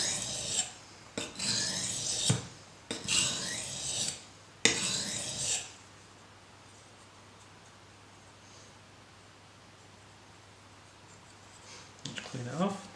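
A StatTrak Gut Knife blade rasps across a whetstone in about four distinct strokes, close and rhythmic, then goes quiet with faint handling noise at the end.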